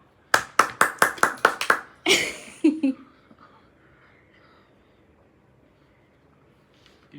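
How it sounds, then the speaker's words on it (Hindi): Hands clap in a quick run of about eight sharp, close claps at a family birthday celebration, followed by a brief burst of rustling and a couple of quieter knocks before near silence. "ताली बजाओ।"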